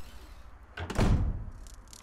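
A door opening in Resident Evil HD Remaster, a single loud creak-and-thud lasting about a second, close and dry, followed by a faint tail of room ambience.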